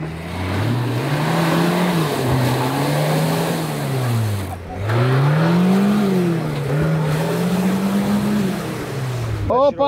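A 4x4 off-road vehicle's engine revs hard at full throttle during an extreme off-road challenge near Ustka, its pitch rising and falling in long surging waves, loud and close, with a brief dip midway.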